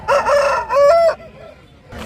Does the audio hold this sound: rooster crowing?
yes